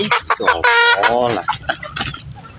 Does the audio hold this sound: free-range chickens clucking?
yes